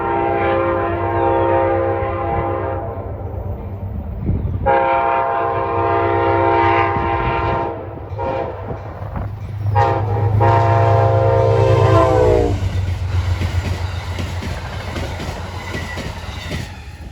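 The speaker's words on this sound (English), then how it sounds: "Sounds like Amtrak." An Amtrak passenger train sounds its loud, chorded horn in several long blasts while rumbling past up close, with steady rail noise underneath.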